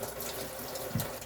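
Steady running water from a tap hisses throughout as a small kabocha squash is washed, with a brief splash or knock near the end, close by.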